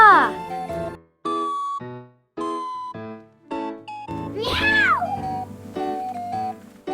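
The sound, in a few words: cat meowing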